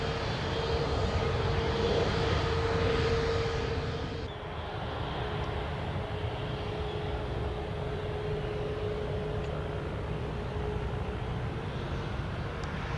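An airliner rolls for takeoff on runway 17 right at Orlando International Airport at sunset, its engines giving a steady, loud jet roar that holds evenly and drops slightly in tone partway through.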